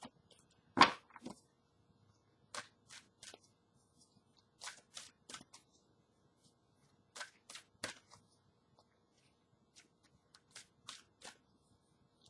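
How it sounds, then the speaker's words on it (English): Angel card deck shuffled by hand during a spiritual reading, soft close snaps and riffles in sparse clusters separated by near silence, faint and intermittent. "Good shuffle here."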